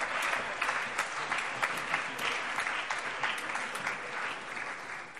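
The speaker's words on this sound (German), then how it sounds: "vermerkt verhaltener Beifall" Subdued applause fills a German parliament plenary session, a steady broadband patter of many hands clapping at moderate volume throughout, with no speech over it.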